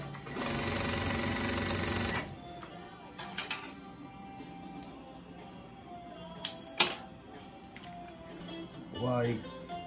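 A sewing machine stitches a bag in a rapid, loud mechanical chatter for about two seconds, then stops, leaving scattered clicks, taps and handling noises with a brief whirring burst near the end.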